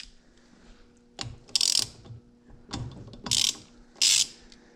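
A ratchet with a 1/4-inch socket loosens screws on an Edelbrock AVS2 carburetor, giving several short bursts of sharp clicking close up, spaced by quiet handling sounds, with no talking.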